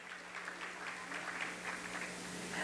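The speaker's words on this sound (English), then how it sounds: "One more big round of applause." An audience at a live charity concert claps together, making a faint, dense, even patter of many hands that carries on steadily without pause.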